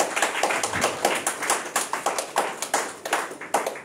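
A church congregation claps in praise at a baptism service, a brisk, steady rhythm of claps, about four per second, close and fairly loud, with no speech over it.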